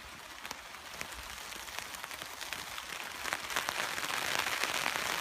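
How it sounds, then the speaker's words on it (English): Rain falling on a wild camping spot, a steady broadband patter of drops on surfaces that grows slightly louder and denser toward the end, heard alone with no talk. "it's raining now."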